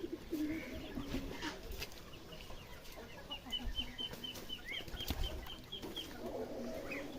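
Pigeons cooing softly among clucking chickens in a yard, with a short run of bird calls in the middle and some rustling and thumps, fairly faint and with no talking.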